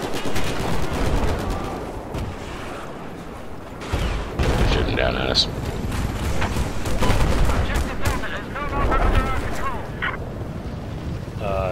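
Gunfire rattles in Battlefield 4 on the Siege of Shanghai map during a close-quarters conquest match, with repeated close bursts and scattered shots throughout while players talk over it.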